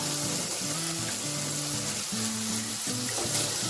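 Chopped tomatoes and potato sizzle in a hot frying pan while making poha, a steady loud hiss of frying with some bubbling and stirring noises, close up and alone.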